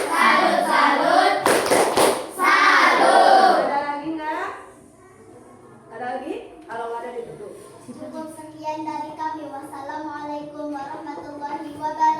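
Schoolchildren in a classroom perform a call-and-response clapping chant, with a few quick bursts of hand claps mixed with the group's voices, followed by a single adult voice talking alone.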